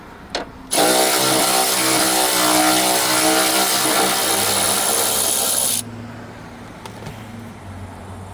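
A ratchet with a 10 mm socket turns a bolt on a hood strut bracket of a Nissan R51 Pathfinder. A loud, continuous mechanical whir runs for about five seconds and then drops to a quiet background with a few light clicks.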